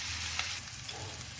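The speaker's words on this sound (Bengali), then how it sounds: "কাঁঠালগুলো ভাজা হয়ে গেছে, এখন আমি নামিয়ে নেব।" Green jackfruit pieces frying in a pan of oil, a brief, steady, close sizzle with light crackles and a couple of small taps.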